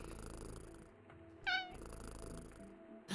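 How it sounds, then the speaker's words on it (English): Mildred, a cat in the point-and-click game Kathy Rain 2, gives a single short, bright meow midway, standing out clearly above a steady low background of game music and ambience. "A little meow."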